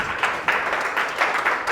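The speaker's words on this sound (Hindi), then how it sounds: "जोरदार ताली से उनको स्वागत करें।" A church audience at Welcome Home Church claps loudly to welcome a man on stage, a short burst of applause with rhythmic surges.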